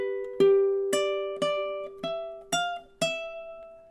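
A lone ukulele plays the second measure as a steady run of about six plucked notes. Each note rings bright and close and decays gently into the next.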